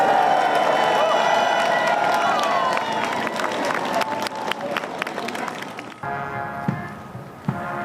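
A large crowd lining the route of the Queen's funeral cheers and applauds loudly and continuously, with scattered claps and shouts; the roar thins out toward the end.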